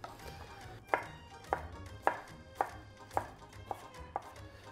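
A knife chops half a courgette and half a bell pepper into cubes on a cutting board, eight evenly spaced, crisp cuts about half a second apart, moderately quiet, with no voice.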